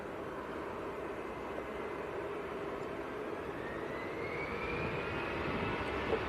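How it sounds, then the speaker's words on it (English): An EasyJet jet airliner bound for Dalaman roars on its take-off roll at Manchester Airport, a steady broad engine rumble and whine rising slightly, heard from a distance without talk. "next to go, EasyJet to Dalaman on the roll"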